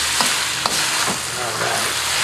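Wood ear mushrooms tossed into a hot wok with eel and Thai curry, producing loud continuous sizzling and frying with a few stirring scrapes on top.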